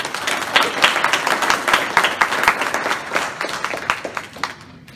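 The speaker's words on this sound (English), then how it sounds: "Please join me in giving Rick a round of applause." A room of people at a young entrepreneurs academy investors panel applauds a panelist, with close, lively clapping in uneven bursts that holds strong and then thins slightly toward the end.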